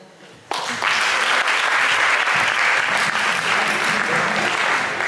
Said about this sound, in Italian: un applauso a tutti i relatori, bravissimi